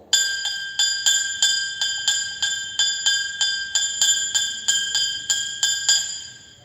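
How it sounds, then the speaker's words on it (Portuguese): A small church bell rung in a fast peal, about fifteen bright, evenly spaced strikes over several seconds, each ringing on and overlapping the next, close and clear with no voices. "esse mesmo sino pequeno em um repique rápido"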